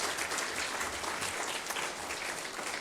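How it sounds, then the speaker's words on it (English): Audience applause at an ethical and impact investing awards ceremony for the award finalists, a steady patter of many hands clapping, continuous and fairly even for the full stretch, with no voices on top. "Give them a round of applause, please."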